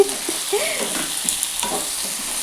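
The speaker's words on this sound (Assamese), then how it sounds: "এতিয়া মই পিঁয়াজখিনি অকণমান ভাজি আলুখিনিও দি দিলোঁ" Loud, continuous sizzling of onions and potatoes frying in a pan, with light stirring clatter and no voices.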